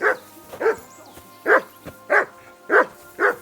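Repeated barking from a dog in Kingdom Come Deliverance 2: six or so sharp barks in an uneven but persistent rhythm, close and fairly loud, alone over faint background tone.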